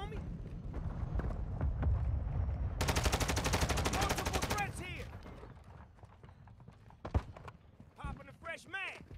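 Rapid automatic gunfire rattles in Call of Duty: Modern Warfare II, a sustained burst amid scattered shots and battlefield clatter, with voices shouting over the action.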